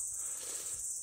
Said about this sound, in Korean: 매미 소리들이 굉장히 많이 들리고 있네요